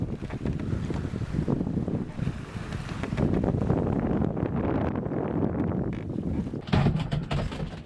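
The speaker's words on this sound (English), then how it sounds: "her tan sails finally have their bellies full of wind again. And we're charging on, spinning a nice white wake astern." A tan-sailed sailboat running under full sail across the open Atlantic, with steady rushing wind, hiss of the wake and wash of waves against the hull, loud and continuous with buffeting wind noise on the microphone.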